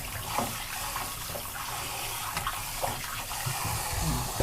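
Pork ribs being rinsed under steady running water in a kitchen, a continuous splashing gush with small irregular clatters and drips throughout.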